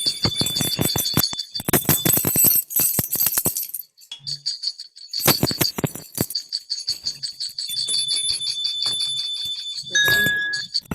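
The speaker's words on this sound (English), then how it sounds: "now you may unmute and ring your New Year's bells" Handheld bells rung for New Year by a church congregation over an online service, a dense, loud jangle of many overlapping bells in bursts with brief pauses, steady high ringing tones throughout.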